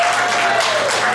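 An audience at a stand-up comedy show bursts into loud, dense applause that fills the room, a brief wash of clapping with no pause.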